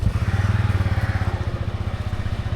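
A motorcycle engine runs close by with a rapid, even thumping beat that holds steady and eases slightly toward the end, with no voices over it.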